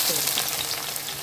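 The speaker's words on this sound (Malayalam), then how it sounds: "ഉള്ളി വറുത്തെടുക്കാം." Onions fry in hot oil and ghee for a beef dum biryani, giving a loud, continuous, close sizzle with no pauses and no talking.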